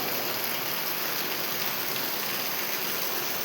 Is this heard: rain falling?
yes